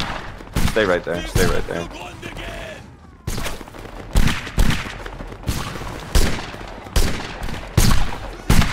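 Musket volleys crack out at a historical reenactment skirmish, with Hesse units firing in line. Sharp, loud shots come in an irregular series, some close together, while a man calls out orders between them.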